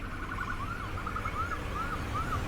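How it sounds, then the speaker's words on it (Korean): An emergency vehicle siren wails through a repeating rising-and-falling pattern, faint and distant over a steady low roadside rumble, with no voices. "어디서 사이렌 소리가 들려왔다"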